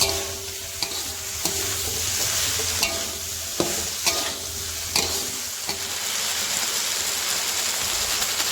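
A spatula stirs food frying in a pan with sweet soy sauce for a home-cooked dish, a continuous loud close sizzle broken by regular scraping and clacking strokes.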